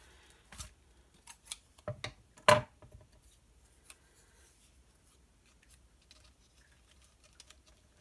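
Scissors snip scrap paper for scrapbooking in a few quiet, close cuts clustered early, followed by near silence.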